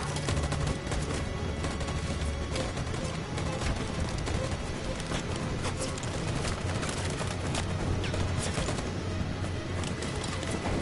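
Troops fire guns in Detroit: Become Human in a dense, unbroken barrage of overlapping shots and clatter that lasts throughout, loud and chaotic.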